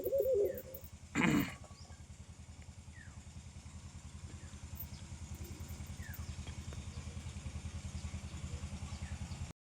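Pigeons in a home loft in the morning after being fed, a low steady pulsing coo that continues throughout, with a brief louder rustle near the start.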